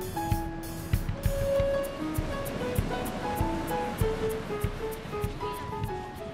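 High sea waves crash and roll on a beach under a cold wind, a continuous loud surf wash with recurring bursts and a steady windy rush close by, with no talk.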